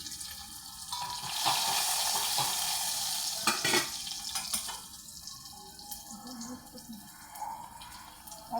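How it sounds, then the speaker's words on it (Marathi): Cooked dal tempered in a hot pan, a rush of sizzling and splashing that swells then settles into softer bubbling and crackles, with no voices. "ही डाळीची फोडणी देते आता मी"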